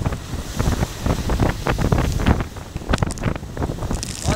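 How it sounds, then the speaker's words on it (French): Strong wind at sea buffeting the microphone over the rush of water against a solo sailing boat's hull, a continuous roaring gust with no voices. "Ah, il y a du vent."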